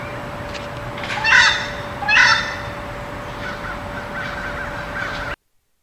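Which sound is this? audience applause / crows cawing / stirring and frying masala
crows cawing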